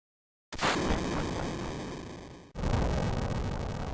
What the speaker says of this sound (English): Jessie sets a small explosion to clear the path